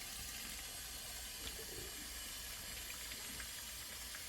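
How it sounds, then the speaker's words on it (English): Tap water runs steadily over a raw turkey, making a soft, continuous hiss and splash with faint irregular spatters, heard alone at low level. "Rinse my turkey off."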